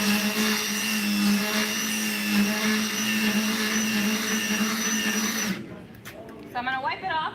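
A Milwaukee power tool fitted with a matrix carbide bit runs with a loud, steady high-pitched whine for about five seconds, then cuts off, and faint scraping and movement follow.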